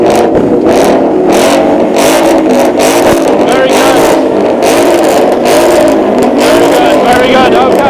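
A Ford Mustang engine at a supercar show roars in sustained loud revving blips, with a crowd murmuring and cheering underneath the dense, continuous exhaust noise.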